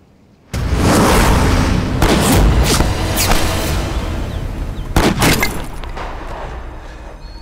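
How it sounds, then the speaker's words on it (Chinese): Gunshots ring out during pistol target practice, a sharp loud blast that starts suddenly and is followed by a few more reports and a long ringing tail, with no talking. "姓齐的就在练枪啊"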